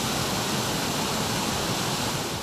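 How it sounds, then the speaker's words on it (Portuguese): Cachoeira do Ouro, a waterfall pouring over a rock wall, gives a steady, even rushing roar of falling water, constant from start to end with no voices. "Essa aí é a Cachoeira do Ouro."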